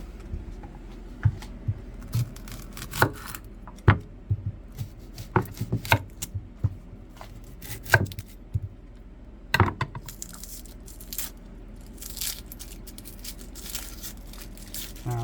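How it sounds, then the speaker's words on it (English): A knife chops onions on a cutting board in a home kitchen, giving a string of crisp, uneven taps close by with short pauses between bursts and no talking. "cutting the onions."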